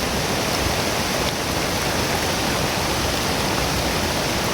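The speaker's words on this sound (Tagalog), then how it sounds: "lakas ng ulan talaga doon" Heavy rain pours by a river, a dense, loud, unbroken hiss of water that stays constant throughout with no voices.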